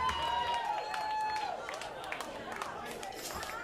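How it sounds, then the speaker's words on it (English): Audience applause and cheering at a rock show by a school music program's senior students, a long whistle or shout rising early, then scattered claps and whoops trailing off at moderate volume. "One more round of applause for Andrew Shank."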